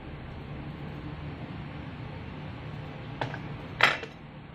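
A pork leg (pata) goes into a pot: a steady background hiss, then two sharp clanks and a knock against metal near the end, close by, with no talking.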